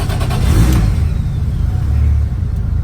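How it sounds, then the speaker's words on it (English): A JZ-engined car cranks and fires up, bursting into a loud, deep rumble that settles into a heavy, throbbing idle close by. "And let's start this one up."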